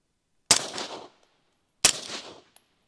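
Two suppressed .30 caliber rifle shots, the first through a Surefire RC2 suppressor and the second through a Dead Air Sandman S, each a sharp loud crack with a short decaying tail, about a second and a half apart.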